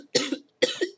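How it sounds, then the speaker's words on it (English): Two harsh, close coughs in quick succession, each a short raspy burst with a pause between. "Excuse me, this is that cough."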